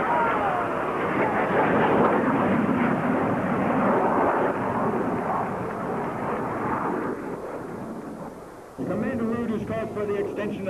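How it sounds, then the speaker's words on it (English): Blue Angels F-18 jets making an opposing inverted pass at a 1987 airshow at Carswell Air Force Base, a loud sustained jet roar with a sharp shift near the end, under a public-address announcer. "this time to demonstrate the inverted flight capabilities of these F-18s. The opposing inverted pass."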